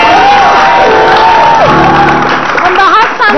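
A studio audience of students from Politeknik Negeri Jakarta applauds and cheers loudly at an Indonesian TV variety show, while a sustained tone and voices ring out over the crowd noise.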